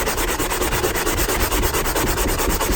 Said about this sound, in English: I found out that a sanding block works best